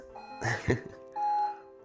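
Electronic workout interval timer set for two minutes during a floor exercise routine, giving a clear steady beep tone that rings out alone near the end, with a short burst of other tones just before.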